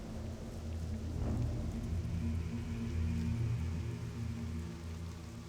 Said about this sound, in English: What heavy rain.